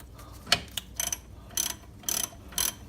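A ratchet tightens the brake caliper bolts on a 2008 Mercedes-Benz CLS 550, sounding as five short bursts of close, crisp metallic clicking separated by brief pauses, with no talking.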